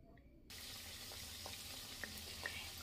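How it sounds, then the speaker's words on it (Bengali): Thekua dough pieces deep fry in hot oil with a steady, quiet hiss that starts suddenly, and a few faint pops and crackles rise now and then above the even sizzle. "এবার এগুলো ভাজতে হবে।"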